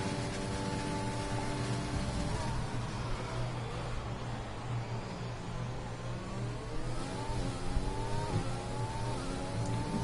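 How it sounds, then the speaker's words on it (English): On-board engine of a Mercedes Formula 1 car lapping Bahrain in the F1 2020 racing game, held in third gear and short-shifted to fourth. A high engine whine rises and falls in pitch steadily, fairly quiet and with no talk. "Keeps it in third gear, the short shifting to fourth"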